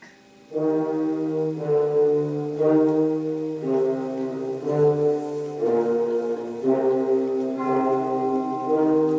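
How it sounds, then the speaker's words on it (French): Bell-like tones ring out in a steady sequence of sustained, overlapping notes with a rich harmonic sound, playing continuously at a moderate loudness: orchestral bells in a Berlioz symphony. "L'apparition des cloches."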